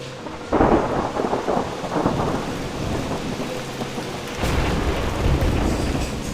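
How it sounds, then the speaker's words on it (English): Heavy tropical rain pours down outside in Thailand, a dense steady hiss broken by rumbles of thunder, with a louder surge of downpour near the end. "It's just started to absolutely bucket down outside."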